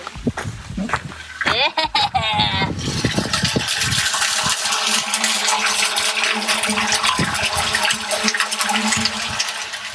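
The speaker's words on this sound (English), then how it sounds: "Use the cleanouts to visually inspect what's happening while the gray water comes in." Gray water rushing and splashing into a DIY septic system, heard through the cleanouts as a steady continuous flow like a flushing toilet, loud and close, following a brief burst of speech at the start.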